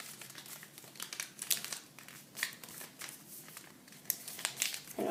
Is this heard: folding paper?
yes